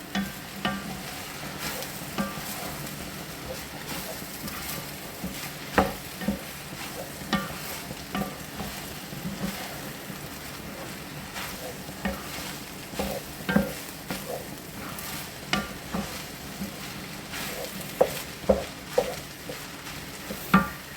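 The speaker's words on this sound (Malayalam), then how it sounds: "ഇത് നമുക്കൊന്ന് ഇളക്കി കൊടുക്കാം" Fried rice being stirred in a pan, a continuous soft sizzle broken by repeated scraping strokes and light knocks of the spatula, steady and close throughout.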